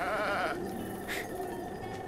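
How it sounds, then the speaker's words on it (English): A single sheep bleats in The Legend of Zelda: Breath of the Wild with a wavering, nasal cry, followed by a steady hum and faint background noise. "Did you hear that unnecessary baa?"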